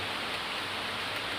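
Rain falls in a steady, dense, even hiss with no breaks or voices.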